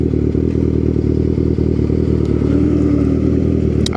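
Continuous engine drone of a Kawasaki motorcycle, a mini moto ridden on the road toward a training course, steady and loud throughout with faint clattering over it and no talk.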